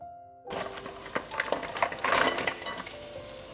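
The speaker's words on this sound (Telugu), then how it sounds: "కాస్త నెమ్మదిగా మసాలా కలిసే వరకు కలపాలి." Marinated crabs are stirred slowly through masala in a metal pot for a Bhimavaram-style crab curry, with a spoon scraping and clinking against the vessel in an uneven run of close, moderate knocks over a soft sizzle.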